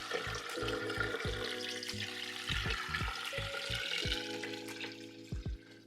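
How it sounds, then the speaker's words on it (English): Water runs from a kitchen tap into a cooking pot, a steady rushing splash at close range, with intermittent low clunks and knocks of the pot shifting underneath; no one speaks. "So I'm going to fill this up with water."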